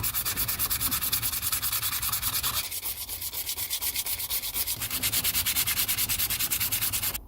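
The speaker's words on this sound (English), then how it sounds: "this black hardware has been hand painted. I want to scuff it up a bit." Hand-painted black hardware on a 1970s Columbus EB-3 copy bass being scuffed, a steady rapid rasping rub that runs continuously at close range, briefly lighter in the middle, with no talking.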